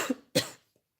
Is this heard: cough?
yes